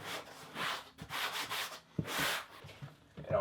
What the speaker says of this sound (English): I'm just going to use a damp sponge to take the excess off.